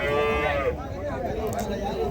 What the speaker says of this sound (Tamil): ஒரு நாட்டு பசு மாடு